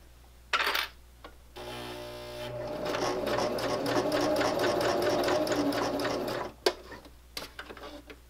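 A home sewing machine runs in a steady rhythmic stitching burst of several seconds, stitching a fabric pocket tissue cover, with brief handling clicks before and after the run.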